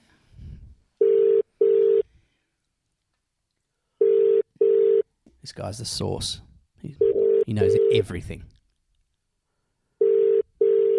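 A telephone ringback tone sounds while a call is placed, coming in clear paired bursts that repeat, with people talking in the gaps between rings.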